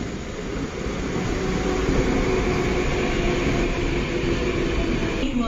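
A Mumbai local train at Mumbra station at night fills the platform with a loud, steady rumble and hiss that holds without pause from start to end.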